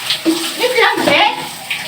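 A pet cat is bathed by hand, with close, loud water sloshing and splashing in uneven bursts while a voice speaks over it.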